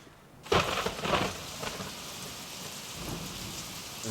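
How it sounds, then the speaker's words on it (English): A thunderstorm with steady rain and a sharp crack of thunder that rumbles on briefly, the downpour continuing as a constant hiss afterward, no talking. "Oh dear, I don't like thunder."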